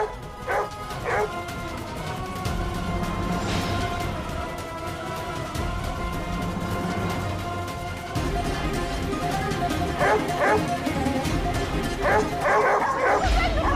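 Several dogs barking and yipping indoors, with high whimpers breaking through in short bursts over steady background noise and indistinct voices.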